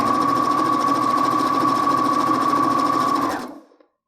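A sewing machine stitching a lined zipper pouch runs in one steady, fast, close mechanical hum with rapid needle rhythm, then stops abruptly near the end.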